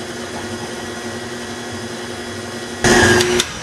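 Eggs are beaten for a chocolate cake batter. A low electric hum and faint rattling are followed by a short, loud burst of motor whirring as the mixer jar runs briefly.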